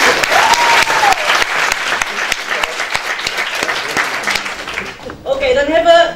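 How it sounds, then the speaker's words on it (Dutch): Audience applause at a talk on eurocentrism, a dense roll of clapping filling most of the stretch, with cheering or voices rising near the end. "Nog 1 applaus voor de finisje"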